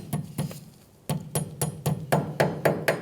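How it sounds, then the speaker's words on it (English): Sharp metallic hammer taps folding a cotter pin on a 2007-2013 Mitsubishi Outlander rear wheel hub, about eleven strikes in a loose irregular rhythm with a brief pause, close and fairly loud. "Once you have it bent back, you can use a hammer."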